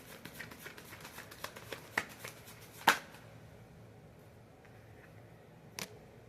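Tarot cards are shuffled by hand, a faint run of soft riffling flicks and taps close up, ending with a couple of isolated snaps.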